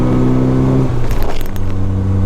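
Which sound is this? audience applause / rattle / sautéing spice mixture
rattle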